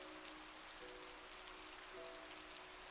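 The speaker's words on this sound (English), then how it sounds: "the sound of rain tapping softly" Soft, steady rain tapping outside a bakery, a faint continuous patter with a couple of quiet sustained tones underneath.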